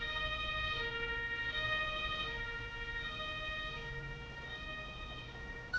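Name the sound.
ambulance siren in the video game Emergency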